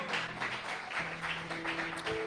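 Church congregation applauding during a Spanish-language sermon, a steady wash of clapping with a sustained organ or keyboard tone underneath, moderately loud and continuous.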